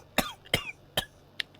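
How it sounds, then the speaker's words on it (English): A man coughs in the game Sherlock Holmes The Devil's Daughter, giving three harsh, close coughs spaced evenly apart, followed by a short, quieter rasp at the end, with no speech around them. "Quite a cough you have."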